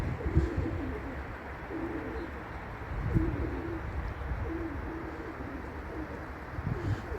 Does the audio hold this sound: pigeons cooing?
yes